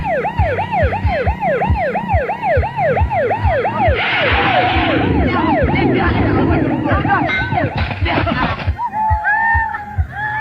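A police car's siren wails loud and close in a repeating rising-and-falling pattern over a rumbling vehicle engine, with a burst of rough noise and other voices partway through.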